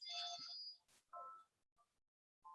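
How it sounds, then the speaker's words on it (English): A phone ringing faintly in the background: a brief electronic ringtone melody in a few short bursts, quiet and distant. "I hope my wife answers that phone quickly"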